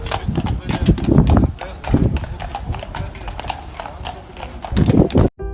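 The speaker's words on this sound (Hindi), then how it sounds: "माँ बेटी को अपने घोड़े पर बैठाकर जंगल से अपने घर की ओर जाते हैं" A horse's hooves clip-clop in a steady walking rhythm as a story sound effect, loud and close beneath a narrator speaking throughout.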